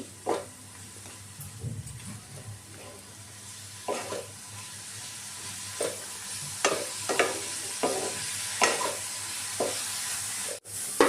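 Capsicum and onion frying in a pan while being stirred, a steady sizzle broken by regular scraping strokes of a spatula, close and fairly quiet, with no voices.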